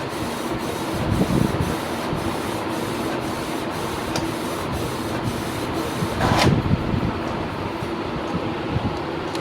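A Canon MG3070S wireless inkjet printer runs steadily through a print job with a continuous mechanical whir and a regular ticking, plus a couple of louder paper-feed swells. The sound is close and unbroken, and no one talks over it.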